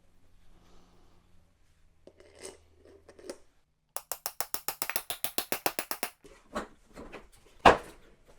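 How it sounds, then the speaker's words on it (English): A ratchet with a 17mm socket works the wheel bolts of a Razor DXT drift trike, giving a quick run of about a dozen sharp, evenly spaced clicks up close, framed by quieter handling noises and a single louder knock afterward. "Use a 17mm socket to remove the old wheels."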